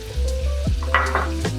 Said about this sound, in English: we're just rendering down the bacon fat and browning up our ground turkey